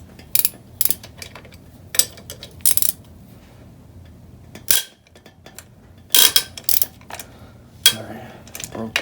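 A ratchet working loose a bolt on a Yamaha TTR125 dirt bike engine during restoration, giving several short metallic clicking bursts with pauses between, close and sharp in a quiet workshop.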